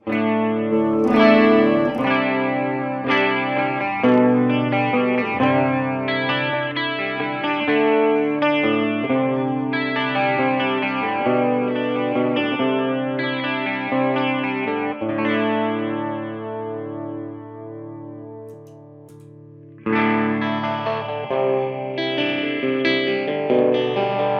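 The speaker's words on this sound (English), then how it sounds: "You might throw a little bit of this here echo on it" Electric guitar played through an Orange Crush Pro 120 amp with an echo effect, sustained chords and ringing notes with repeats trailing behind them, loud and steady, then a brief fade before the strumming comes back in strongly.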